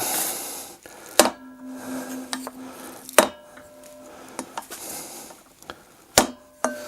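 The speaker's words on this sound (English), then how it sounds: "give this ring here a smack and get it to seat the bearings completely" Hammer blows strike a block of wood set against a wheel bearing ring to seat the packed bearings, four or five sharp, close knocks spaced a second or two apart, some ringing briefly with a metallic tone.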